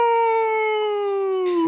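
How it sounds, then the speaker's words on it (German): Single sustained wolf howl in a children's farm song, a long steady tone with rich harmonics that dips slightly in pitch near the end, loud and alone for under two seconds. "Nein, Bartolito, das ist ein Wolf."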